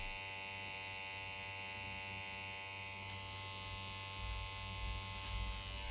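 Tattoo machine fitted with a 7-round liner needle running at 8 volts, a close, constant electric buzz with a smooth, even hum that holds steady throughout and only swells slightly near the end.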